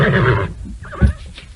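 A horse gives a loud, close whinny that breaks off after about half a second, followed by a few softer snorts and rustles, with no voices.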